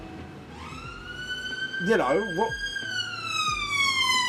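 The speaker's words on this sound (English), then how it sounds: "Hold on, siren." An emergency vehicle siren wails outside, a rising and falling tone that sweeps up, warbles and holds, heard under a person talking indoors.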